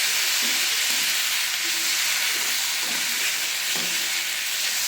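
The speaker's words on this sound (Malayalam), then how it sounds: "ചെറുപയർ വേവിച്ചത് നമുക്കിതിലേക്ക് ഇട്ട് കൊടുക്കാം അതിന് ശേഷം നമുക്ക് നല്ലപോലെ ഒന്ന് മിക്സ് ചെയ്ത് കൊടുക്കാം" Cooked green gram stirred into a curry in a pan makes a steady, close frying hiss with soft intermittent scrapes of the stirring spoon and no talking.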